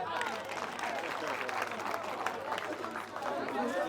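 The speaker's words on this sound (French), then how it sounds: "je vous demande d'applaudir pour lui." Students at Lycée de Garoua Boulaï clap together in a steady, dense patter that fills the whole stretch, with crowd murmur and a few voices mixed underneath.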